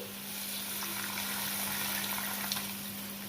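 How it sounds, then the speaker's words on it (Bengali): A little water poured into crab curry as it cooks, producing a short, soft hiss and gentle gurgling sizzle, close and steady, with a faint background hum. "এবার আবার একটু সামান্য জল দিয়ে দিচ্ছি"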